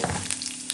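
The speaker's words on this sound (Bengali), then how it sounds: "এখন আমি ওই ভাজা তেলটাতে আমি অল্প জিরা ফোড়ন দিয়ে দিলাম।" Cumin seeds dropped into hot oil left from frying potatoes and paneer give a loud, close, continuous crackling sizzle with small pops throughout a brief burst.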